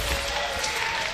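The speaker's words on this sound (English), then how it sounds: "Literally immediately clapping here at PAX for Nick." An esports crowd at PAX West breaks into applause during a Fortnite grand final, a dense, steady wash of many hands clapping through the whole short moment.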